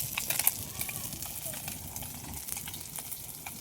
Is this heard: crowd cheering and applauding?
no